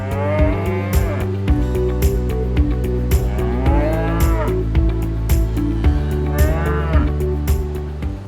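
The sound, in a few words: Belgian Blue beef cattle mooing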